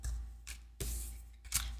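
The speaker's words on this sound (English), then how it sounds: "I'm going to reshuffle." A deck of playing cards, new and not yet well mixed, riffle shuffled at close range in three quick bursts of crisp, rapid fluttering slaps, with short quiet pauses between them.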